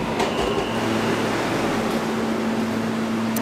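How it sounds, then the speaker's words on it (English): A New York City R160B subway car on a B train bound for Herald Square runs with a loud, steady rumble and a constant whine, with no talking over it. "This is a Herald Square bound B train."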